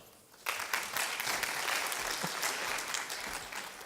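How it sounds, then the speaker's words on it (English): A room of meeting attendees breaks into applause for a guest at a simulated pre-audit committee session, the clapping starting abruptly and holding steady and moderately loud for several seconds. "a round of applause for Brian"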